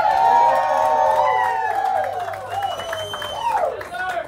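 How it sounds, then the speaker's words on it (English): A crowd at a live country show in a Dallas honky-tonk claps and cheers, with whoops rising under sustained musical tones and some voices, fairly loud and close. "y'all got to give this crowd another round of applause from us"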